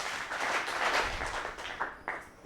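Audience clapping at a commando talk event, a brief round of moderate applause from a room of listeners that tapers into a few scattered claps.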